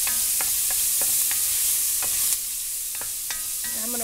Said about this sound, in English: just going to add the onion and carrot straight in